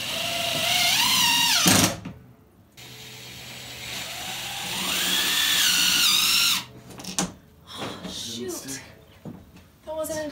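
A power drill drives screws into a bus ceiling panel in two long whirring bursts with rising and falling pitch, loud and close, followed by short choppier runs, with people talking between them.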